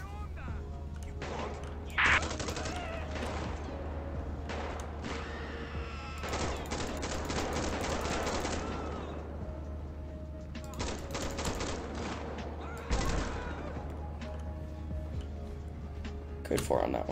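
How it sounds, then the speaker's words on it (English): Gunfire in the video game GTA 5 during a police patrol mod, several bursts of rapid shots and fusillades over a steady engine drone, with radio-style speech in between. "Shots fired."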